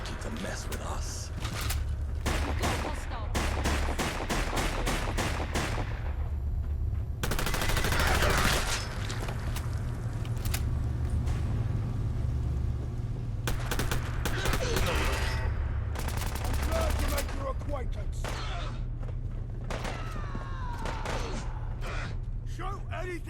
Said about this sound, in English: Shoot anything that moves!